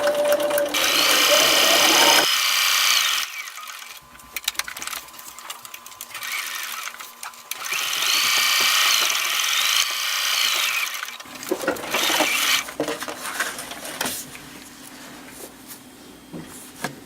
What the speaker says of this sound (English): I've now sewn the Velcro onto both sections and gone all the way around both pieces of Velcro